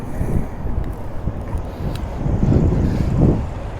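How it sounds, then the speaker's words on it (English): Heavy, cold wind buffets the microphone beside a truck during a pre-trip inspection with a constant low roar, swelling in stronger gusts toward the end; no voices. "it's pretty damn windy"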